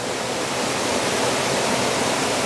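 Water of the río Infierno in Piloña, Asturias, rushing along its bank as a steady, loud, broadband roar with no breaks, close by and alone without any voices.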